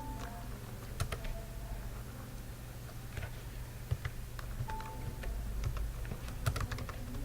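Keys on a computer keyboard tap out dates in a database form, scattered light clicks over a constant low hum of room noise, soft and close, with no speech.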